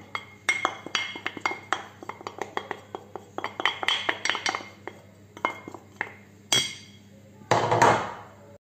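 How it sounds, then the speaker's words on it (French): Spoon or whisk clinking and scraping against a pan as flour is stirred into melted butter off the heat for choux pastry, a quick run of sharp metallic knocks followed by a couple of louder scrapes, close and alone. "je vais incorporer la farine en une seule fois et on va mélanger"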